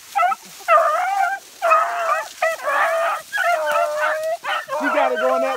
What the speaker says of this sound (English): I'm gonna turn the dog loose unless I jump one.